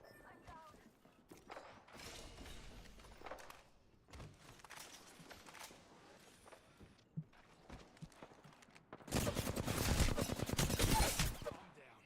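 Gunfire in a shooter video game such as Apex Legends or Bloodstrike: scattered shots and rattling bursts, moderately faint, ending in a loud sustained volley near the end, with game voice lines over it.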